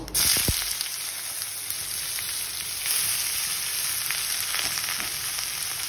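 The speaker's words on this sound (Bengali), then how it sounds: "এবার আমি এর ভেতরে লাউগুলো দিয়ে দেবো।" Chopped bottle gourd frying in leftover fish-frying oil with spices, a soft continuous sizzle with an early sharp clatter, fairly quiet and close, with occasional small pops.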